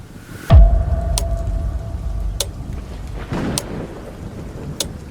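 Steady rain pours down through a thunderstorm, with a loud, close thunderclap near the start followed by a softer rumble and several sharp crackles over the continuous hiss.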